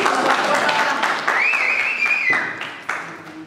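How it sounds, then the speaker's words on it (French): Applause for a tortoise at a French-speaking gathering, a steady patter of clapping from an audience lasting a few seconds, mixed with crowd voices and some whistling or cheering. "Alain, on peut applaudir la tortue."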